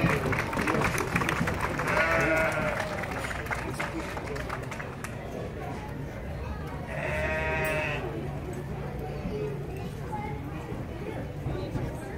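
Two sheep bleats ring out over a noisy crowd in a large hall at an FFA market livestock show in Healdsburg, California, with people talking and murmuring throughout.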